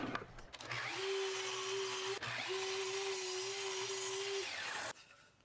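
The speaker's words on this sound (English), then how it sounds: "take it to our miter saw and cut it to the approximate length" A miter saw cuts poplar lumber to length with two steady, whining cuts in a row, each spinning up and then dropping away, moderately loud in a quiet shop.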